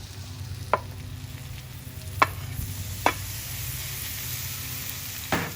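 Steak for Philly cheesesteaks sizzles steadily on a Blackstone griddle, a constant close frying hiss broken by a few sharp scrape or tap clicks from a spatula.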